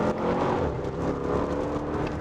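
A Bentley Bentayga V8 SUV hums with a deep, steady engine drone while driving, heard from inside the cabin. The engine note stays moderately loud and even, with slight swells and no one speaking.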